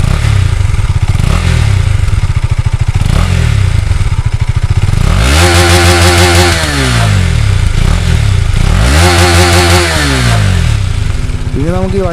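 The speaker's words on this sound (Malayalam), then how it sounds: "നമുക്ക് ഇതിൻ്റെ എക്സോസ്റ്റിൻ്റെ സൗണ്ട് ഒന്ന് കേട്ട് നോക്കാം" A KTM Duke 250 BS6 motorcycle idles up close with a loud, lumpy single-cylinder exhaust, then is sharply revved twice, each blip rising and falling back to idle.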